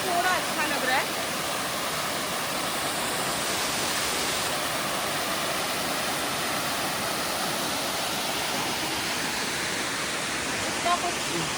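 Elephant Falls in Meghalaya pours in a steady, dense roar of falling water that stays constant throughout, full and close, with no break or change in loudness.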